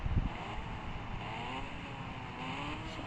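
A Kawasaki ZX10R motorcycle engine runs in a steady low throaty drone that stays fairly constant and moderately loud throughout, with no talk over it.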